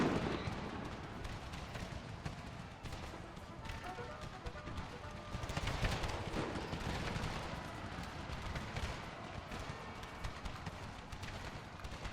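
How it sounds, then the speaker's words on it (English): Artillery fire in the Empire: Total War battle game, set in an American Civil War scenario: a continuous dense clatter of cannon and musket fire with distant rumbling blasts, sustained throughout at moderate level. "that unit just got hit by artillery and they're breaking now."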